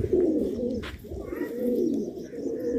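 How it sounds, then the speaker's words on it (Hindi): A home-bred fighting pigeon coos in low, rolling, repeated phrases, close and steady throughout, with a faint higher chirp briefly in the background. "ये इनका लड़ता हुआ कबूतर है"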